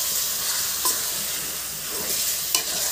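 Curry is stirred in a hot pan, a steady close sizzle of frying with occasional scraping knocks from the spoon.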